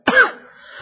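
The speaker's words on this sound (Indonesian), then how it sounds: "Batuk terus ini." One sharp, close cough bursts out loudly and then fades into a brief throat-clearing rasp in an otherwise quiet indoor room.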